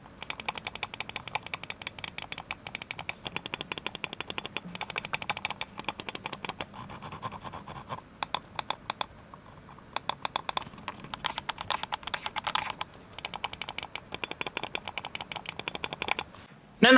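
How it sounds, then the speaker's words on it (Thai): Rapid, crisp clicks from the buttons of an ATK F1 Extreme lightweight gaming mouse, sounding in dense, fast bursts and steady runs close to the microphone, with a brief pause in the middle and no talking. "ไปฟังเสียงคลิกของ F1 เต็มๆกันครับ"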